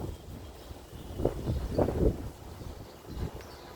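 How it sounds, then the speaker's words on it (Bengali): Strong wind blowing across a rooftop garden with guava plants, rumbling in uneven gusts against the microphone with a faint rustle of leaves. "ছাদের উপরে বাতাস প্রচণ্ড।"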